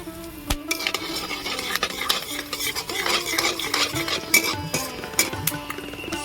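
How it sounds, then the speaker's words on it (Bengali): Whole garam masala, two bay leaves and two dry red chillies crackle and sizzle in hot oil, with a steady close-up spatter broken by sharp clinks of a metal spoon stirring against the pan. "তেল গরম হয়ে গেছে ফোড়নে আমি দেব গোটা গরম মশলা দুটো তেজপাতা দুটো শুকনো লঙ্কা"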